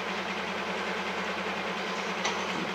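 A long freight train in Train Simulator on Cajon Pass rumbles along with a steady low engine drone and rolling wagon noise, continuous and close, no voices.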